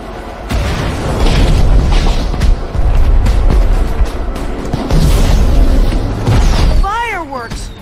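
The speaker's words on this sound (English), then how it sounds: "Fireworks!" Fireworks exploding in the video game Minecraft: Story Mode: loud booming bursts and crackling pops in repeated waves, with a rising whistle near the end over a noisy action background.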